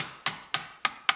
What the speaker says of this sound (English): now when I install that in here and then I hammer in, there's my hammer, carefully